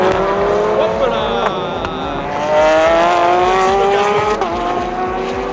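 WEC endurance race cars at Portimao brake hard and accelerate close by, with rising and falling engine notes, a sharp downshift crackle and some tyre squeal, and someone talks over them.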